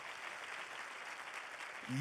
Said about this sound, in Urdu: خدا ان کے جلال کے لیے زوردار تالیاں بجائیں